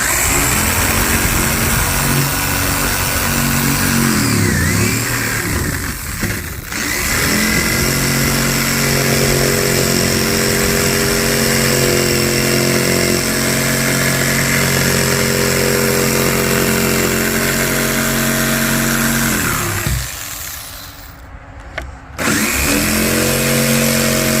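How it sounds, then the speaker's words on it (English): A power tool cuts a handhold through 3/4-inch plywood for a Ga Ga pit octagon, a loud steady whining buzz running almost the whole time, with a short dip partway through and a brief break near the end before it resumes. "right now I'm cutting out a handhold"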